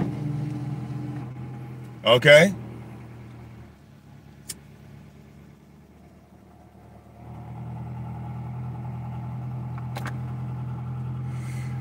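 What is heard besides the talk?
2002 Honda Accord engine running and idling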